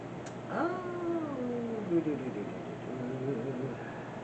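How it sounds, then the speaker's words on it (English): A cat meowing: one long, drawn-out, wavering meow close by, rising and bending in pitch like a caterwaul, over a faint steady background hum with no talk. "Hello, kitty cat."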